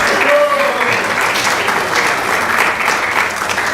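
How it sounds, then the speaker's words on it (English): A temple congregation claps loudly and continuously to welcome newly initiated devotees, a thick, sustained applause from many people with faint voices mixed in underneath. "So we would like to give a big round of applause and also welcome them with garlands."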